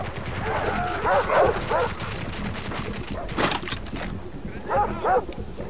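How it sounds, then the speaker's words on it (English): Dogs bark in short bursts at a middle distance in the video game Far Cry 3, mixed with game noise and talking voices. "Do I hear dogs?"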